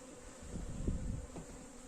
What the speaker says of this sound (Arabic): في خليتين هنا صوت الزن فيهم عالي، ده معناها إن في نحل كتير